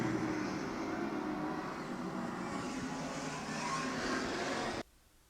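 Race car engine roaring steadily at Twin State Speedway in Claremont, New Hampshire, a loud sustained drone of cars running the oval, cutting off abruptly near the end.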